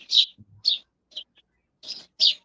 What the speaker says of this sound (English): The birds sound nice today.